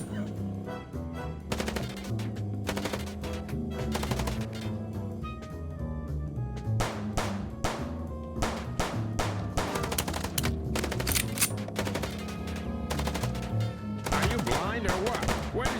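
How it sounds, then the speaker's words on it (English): Gunfire from the video game Chicken Police rings out in repeated sharp bursts, some rapid and some spaced, loud over a steady low game soundtrack. "Trying to shoot his lights out."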